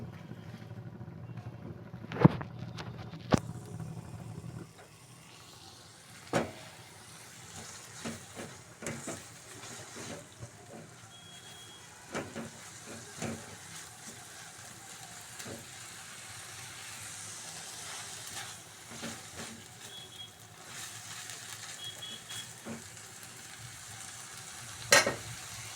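Meat frying in a pan for restaurant-style noodles, a steady low sizzle with scattered clanks and scrapes of stirring, plus a few sharp knocks near the start and end.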